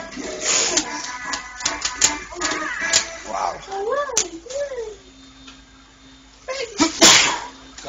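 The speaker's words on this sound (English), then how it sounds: "Bless you!" A single sharp, close sneeze bursts out near the end, with chatter and light electronic game tones from Sonic Shuffle on the Dreamcast carrying on earlier.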